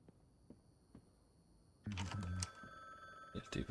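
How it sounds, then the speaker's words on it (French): A telephone rings in the video game The Bookwalker, a bright electronic trill starting partway in over soft ticking sounds, fairly loud and close. "Il y a le téléphone qui ressonne."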